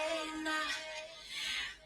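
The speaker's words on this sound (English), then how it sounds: "All I did was I slowed down the vocals by warping the original sample" Slowed vocal sample warped to half tempo in Ableton for an Afro House remix, with drawn-out, smeared sung tones running steadily through the short passage without other talk.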